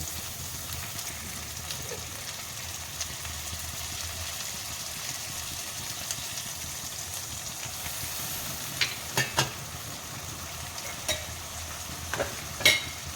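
Coriander and cumin powder paste, soaked in water, frying in a pan with turmeric for an eel curry, a steady soft sizzle with occasional sharper clicks of stirring near the end.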